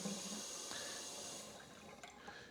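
Tap water runs and pours into a couple of deep drinking glasses for rooting basil cuttings, a steady close wash that fades after a second or two into faint drips and small splashes.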